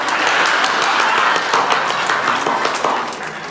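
A studio audience claps in warm, dense applause for Vardan during a comedy sketch, full for most of the stretch and tapering slightly toward the end.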